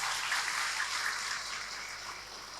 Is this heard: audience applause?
yes